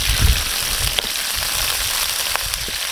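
Beef sizzles and crackles in a hot pan with onions in a Filipino kitchen, a steady broadband hiss with a few sharper pops, close and continuous.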